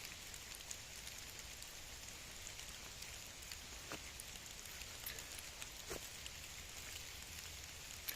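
Steady rain falls continuously, a dense hiss with occasional distinct drips landing nearby; no voices.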